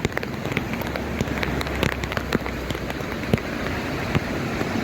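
Heavy rain pours steadily in Junagadh beside the road to Damodar Kund, a dense, even hiss of drops striking surfaces with scattered sharper splats, continuous and enveloping.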